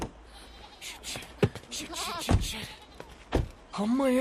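A sheep bleats after being struck by a car, several short distressed cries with a thud and people talking close by.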